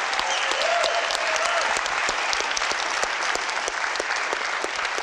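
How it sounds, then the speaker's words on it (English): Sustained applause from an audience at a startup weekend event, a steady dense clatter of clapping for the organizers across the whole stretch, with a faint voice briefly audible beneath it. "Give these guys a huge round of applause."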